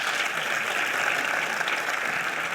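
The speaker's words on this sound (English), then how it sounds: "Let's give her a hand of applause here." An audience applauds at a film financing masterclass during a film festival, brisk, dense clapping that stays at an even level throughout.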